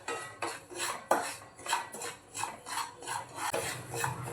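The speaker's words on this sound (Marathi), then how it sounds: "त्यामध्ये आपण रवा घालूया 1 वाटी आणि छान याला परतवून भाजून घेऊया 2-3 मिनटं." Dry semolina is roasted and stirred in a pan for mango sheera: a quiet, rhythmic series of scraping strokes, roughly three per second, rasping against the metal.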